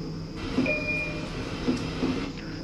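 R179 subway train in the OpenBVE simulator, a steady interior rumble and hum of rail transport with a faint high tone and light clanks, continuous and moderately loud with no speech.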